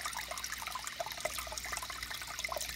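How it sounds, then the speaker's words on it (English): An aquarium filter runs as tap water refills the tank, a quiet bubbling and trickling with small splashes and gurgles over a soft steady wash, no talk. "There's the filter running again as the level of water goes up."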